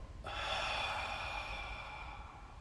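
A deep, long exhale through an open mouth during a guided breathing exercise, a steady breathy rush that starts abruptly and holds for about two seconds before fading slightly.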